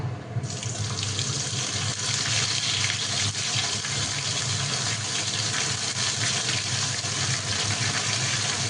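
Water runs steadily from a tap into a pan holding ginger paste for khichuri, a continuous loud gushing stream that fills the whole stretch without pause.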